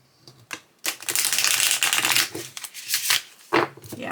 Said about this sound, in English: Let's see how they shuffle. They're the exact size of a deck of playing cards.